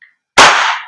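A WE Hicapa Type K airsoft gas blowback pistol fires a single shot, a sharp loud crack with a brief hissing decay, heard close and alone.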